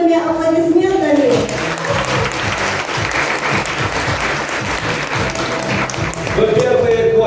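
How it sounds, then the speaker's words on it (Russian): Vigorous applause from restaurant guests fills the room, dense and loud, with a speaker's voice heard briefly at the start and again near the end over the clapping. "Сегодня давайте друг друга поддержим бурными аплодисментами."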